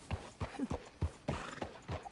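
Horse hooves clip-clopping in Red Dead Redemption 2, a steady, fairly quiet rhythm of about eight hoofbeats at a walking pace.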